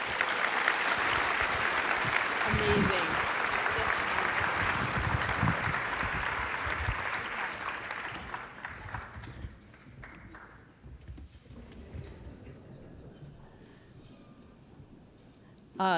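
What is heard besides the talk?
audience applause for a panel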